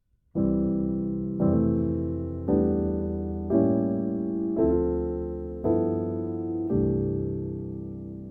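Piano playing a slow melody with rich gospel-style chords, seven sustained struck chords in an even rhythm, each ringing out before the next.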